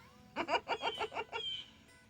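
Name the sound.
blue jay calling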